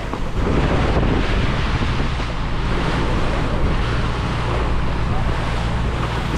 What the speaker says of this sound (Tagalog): ang makina ito Yamada 18 kabalyos